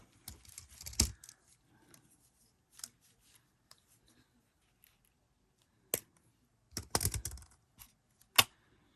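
Scissors snip through craft material for a palette project in scattered close bursts of crisp cutting and rustling, separated by quiet gaps, with no talking.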